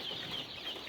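Young black chicks peeping steadily in a brooder, a soft, continuous high chirping that sounds close and moderately quiet, with no talking over it.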